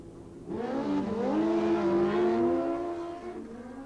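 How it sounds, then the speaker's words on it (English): Nitrous-class street bikes drag racing at Blyton, with a loud engine roar that climbs and shifts in pitch as the bikes accelerate away, sustained for several seconds and heard from close by. "Here we have Mark Smythe, and he's racing against the other nitrous class runner, Ron Russell."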